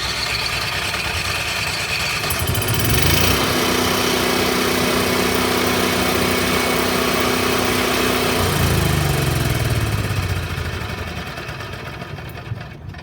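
Portable generator on a Jayco 2021 Melbourne 24L motorhome starting up and then running at a steady, loud mechanical drone with a constant hum, settling slightly toward the end.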